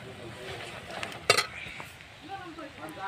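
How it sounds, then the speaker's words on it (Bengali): A metal ladle mashes and stirs cooked dal in a pot, with soft scraping and one sharp metallic clink against the pot, while a voice talks quietly in the background. "আমি তার জন্য এরকম করে দিয়ে হাতা দিয়ে ঘুটি"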